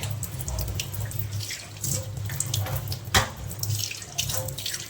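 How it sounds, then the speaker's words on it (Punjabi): Tap water runs steadily into a steel kitchen sink during washing, a continuous close splashing hiss with occasional louder clatters, no talking. "ਸਾਰਾ ਸਿੰਕ ਆਪਾਂ ਧੋ ਕੇ ਦਿਖਾਉਂਦੇ ਆ ਤੁਹਾਨੂੰ"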